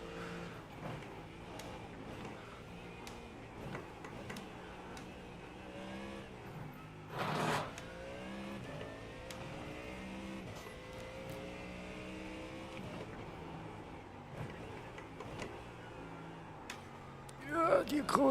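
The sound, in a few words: Mustang GT3 race car engine in the video game iRacing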